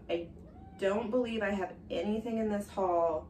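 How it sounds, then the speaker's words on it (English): A cat meows several times, drawn-out wavering cries close to the microphone, mixed in with a person talking nearby. "Don't mind if you hear my cat meowing."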